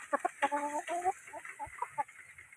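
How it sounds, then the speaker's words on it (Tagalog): Native chickens and young roosters about five months old in a chicken coop, giving a run of clucks and short squawking calls, fairly close and moderately loud, with some faint background noise. "Parang mga tandang to eh."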